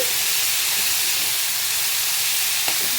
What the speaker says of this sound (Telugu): నల్లూరికాయలని ఇలా కోసినవి ఇలా వేసి నూనెలో వేసుకోవాలి బాగా బాగా వేగాలి